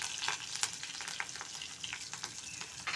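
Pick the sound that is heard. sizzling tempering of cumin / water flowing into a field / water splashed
sizzling tempering of cumin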